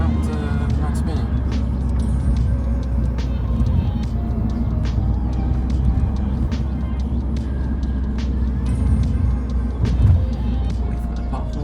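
A 180 HP Volkswagen Scirocco accelerates hard through a roundabout, a steady loud engine drone with road and wind noise throughout and intermittent clicks and rattles.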